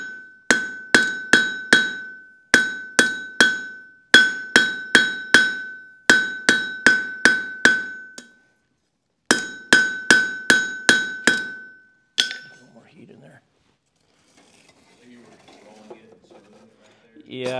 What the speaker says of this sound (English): Now I got the heat there, I'll start hammering it down.